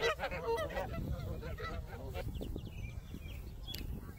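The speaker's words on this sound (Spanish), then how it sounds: "Miren los patos, amigos." Ducks quack and honk nearby in short repeated calls, with faint background chatter and outdoor noise.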